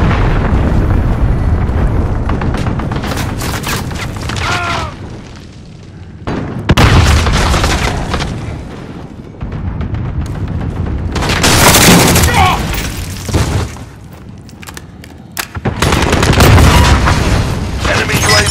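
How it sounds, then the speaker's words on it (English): Heavy booming cruise missile blasts in Call of Duty: Modern Warfare, several deep rumbling explosions rolling in waves with crackling debris and scattered gunfire, loud and close throughout. "Enemy cruise missile incoming."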